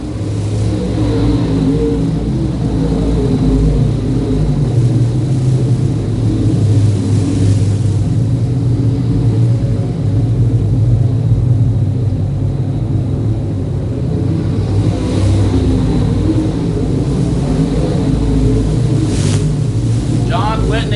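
Late model race cars circle a dirt track at Moler Raceway Park during a feature race, a continuous loud engine roar that swells and ebbs as the pack passes, under a voice on a loudspeaker.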